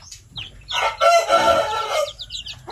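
Young Plymouth Rock chickens on a farm clucking, with a rooster-like crow rising loudly in the middle, close and clear with no talking.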